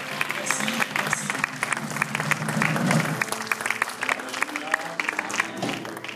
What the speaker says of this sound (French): On acclame l'Éternel, on avance, on acclame.